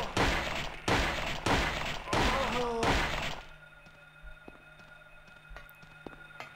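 Four heavy pistol shots from the Silent Hill video game fire at roughly one-second intervals, booming and close, followed by quieter ambient game sounds with faint thuds.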